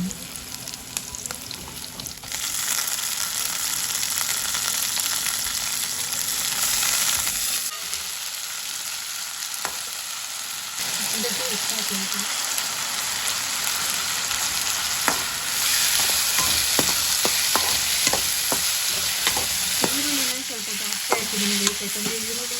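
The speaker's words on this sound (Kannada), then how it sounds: "ಈರುಳ್ಳಿ ಚೆನ್ನಾಗಿ ಫ್ರೈ ಆಗಿದೆ ಇವಾಗ ನಾನು ಇದಕ್ಕೆ ಮೊಳಕೆ ಕಾಳು ಮೊಳಕೆ" Onions fry in a pan with a constant loud sizzle while a spatula scrapes and taps in irregular clicks. Sprouted beans are tipped in and stirred, and the hiss dips and returns as the pan is worked.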